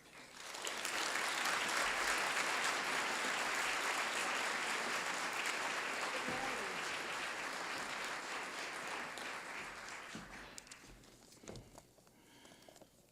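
An audience at an MIT Martin Luther King Jr. celebration welcomes a speaker with loud, sustained applause from a large crowd that holds steady for about ten seconds and then thins to a few scattered claps.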